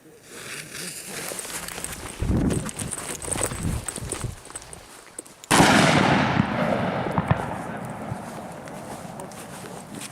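Two Puma firecrackers detonate together outdoors in one loud, sharp blast at mid-clip, followed by a decaying rumble. Earlier there are softer thumps and handling noise.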